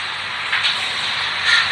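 A steady airy whir of a small cooling fan inside a 500-watt pure sine wave power inverter, constant and fairly close, with no voices.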